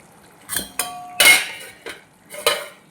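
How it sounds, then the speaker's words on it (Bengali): A metal lid is lifted off a cooking pot of oyster curry, giving a series of sharp, close metallic clinks and clatters spaced irregularly over a couple of seconds with quiet gaps between them. "এবার আমি ঢাকনাটা খুলে আপনাদের দেখাবো"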